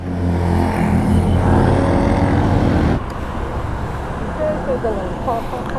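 Stock exhaust of a Ducati Streetfighter V2 motorcycle, a loud steady engine drone with deep low harmonics for about three seconds that then drops to a lower, rougher idle-like rumble with faint road noise.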